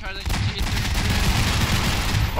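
Heavy, rapid gunfire from a gun in Garry's Mod, a loud continuous barrage of shots with deep booming low end lasting the whole moment.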